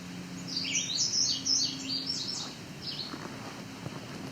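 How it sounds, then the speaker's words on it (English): A red-eyed vireo sings short, high, sweet phrases in a quick series over a faint outdoor hush, then trails off into quieter, more distant notes. "Lots of red-eyed vireo here."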